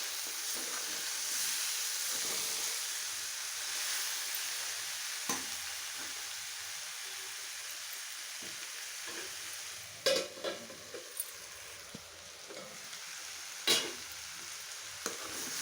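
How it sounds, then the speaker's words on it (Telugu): Sliced carrots fry in oil with salt in a pan, a soft continuous sizzle close by, with occasional stirring scrapes and clinks over it. "ఇలా వీటిని ఒక 5 మినిట్స్ 10 మినిట్స్ బాగా వేగించండి"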